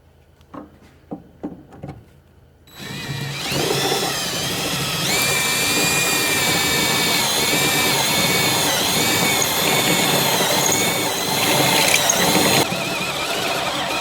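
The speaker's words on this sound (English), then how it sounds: "Then we're going to use our step drill. Need 5/16." A step drill widens a hole in a 2006 Duramax truck's hood to 5/16 inch, starting after a few taps and then whirring loud and steady for about ten seconds, its pitch rising partway through as it cuts.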